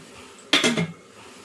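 Dishes and a metal can clatter briefly in a home kitchen sink as they are scrubbed, a short cluster of clinks and scraping lasting under half a second against a quiet background.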